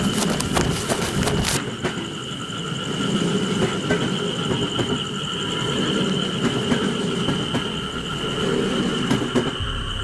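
Train rumbling and clattering along the rails as it pulls away, a dense continuous roar with bright whining metallic tones and a burst of rapid clacks at the start, loud and near.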